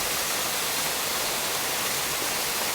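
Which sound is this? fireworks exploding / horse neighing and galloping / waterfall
waterfall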